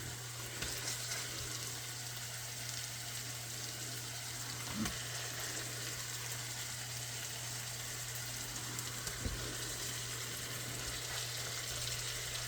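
Honey garlic chicken thighs fry on a stovetop pan, giving a faint, steady sizzle with a low hum underneath and occasional small clicks.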